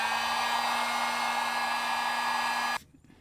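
A heat gun blows steadily as it heats solder on the wiring harness of a Honda CBR600RR motorcycle, a constant loud whirring hum that cuts off abruptly near the end.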